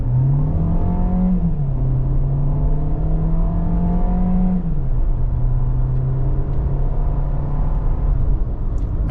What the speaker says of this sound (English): 8-speed is shifting smoothly down.